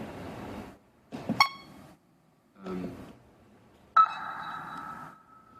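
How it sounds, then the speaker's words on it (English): A synthesized ping with reverb and a shaped envelope, generated procedurally, sounds as a few separate electronic tones. The last is a sustained ringing ping that decays with an echoey tail, heard alone without talk. "we're applying reverb to a signal to give it a sort of echoey sound, and we apply an envelope, so it's a ping sound"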